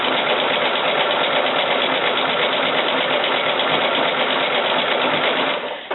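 Sewing machine chain stitching quilt pieces straight through in a continuous run, a loud, steady, rapid mechanical whirr that stops abruptly at the end.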